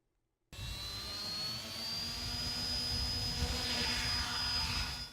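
Remote-controlled model aircraft fly at a model airstrip in a Tuscaloosa park during an event, with a steady high engine whine holding fairly loud and continuous from near the start, alone without talk.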